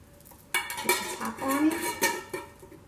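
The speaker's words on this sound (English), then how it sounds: "Now what I'm gonna do is just put a couple oranges in there." Orange pieces dropped into a bowl of party punch, giving a few clinking, splashing knocks of fruit and ladle against the bowl, spaced over a couple of seconds with no talk.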